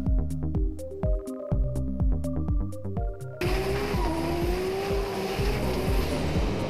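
Drift cars at a D1NZ round at Forsyth Barr Stadium in Dunedin run at full power, with bursts of rhythmic engine bangs giving way to a loud, continuous tire squeal over a roaring engine.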